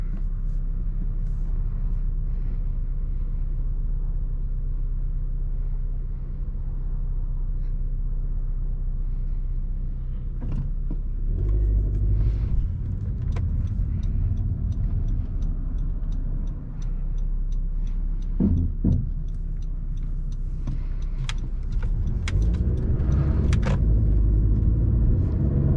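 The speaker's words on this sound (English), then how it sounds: "we'll see how fast the car can get up to speed." A 2017 Honda Civic Coupe Touring drives and builds speed, its engine and road noise forming a steady low rumble with occasional ticking clicks, heard from inside the cabin with no talking.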